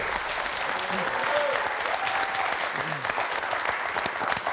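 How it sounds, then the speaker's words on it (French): A studio audience applauds steadily on a televised quiz show, with a brief voice heard over the clapping. "Très applaudi."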